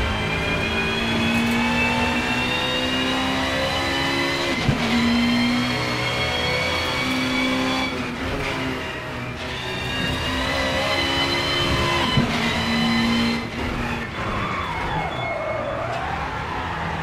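A Peugeot 406 BTTC race car from the 1990s laps a track on the wrong tyres, its engine a loud, steady, close high-revving drone with gear shifts and brief dips as it slides through corners.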